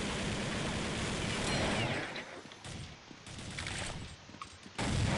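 Gunfire in the video game Counter-Strike 1.6, a loud, noisy stretch of rapid shots and bursts with brief dips before a final burst.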